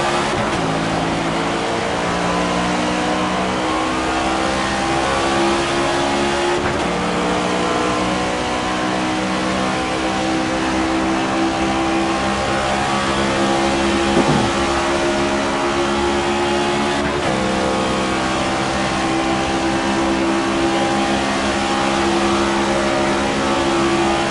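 Race car engine in a racing video game, sustained and loud with steady harmonic drone building as it prepares to launch from pole position, no talk over it.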